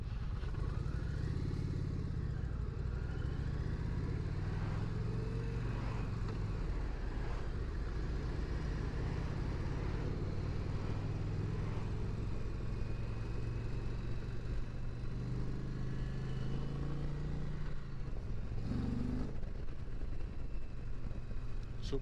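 A 2021 Indian Challenger Dark Horse motorcycle engine runs continuously with a steady low rumble while riding, and the hum holds even with light clattering and wind over the whole stretch.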